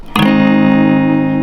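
A clean electric guitar chord played through a Fender amp, strummed once and left to ring, loud and sustained with a bright, steady tone that slowly fades.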